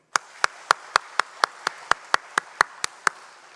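A church congregation claps in slow, steady unison, about a dozen evenly spaced sharp claps standing clearly out against a quiet room.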